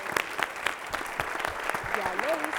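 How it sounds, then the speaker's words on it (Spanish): A television studio audience gives a short burst of brisk applause for an expert guest, dense clapping at steady volume with a voice briefly rising over it near the end. "Un aplauso para él también."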